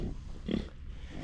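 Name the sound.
pig grunting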